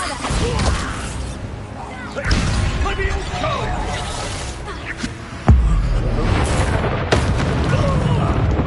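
Booming Bombarda blasting spell explosions in the Hogwarts Legacy video game, with loud blasts and crashes, the sharpest hit landing about halfway through, amid creaking debris and a busy battle mix.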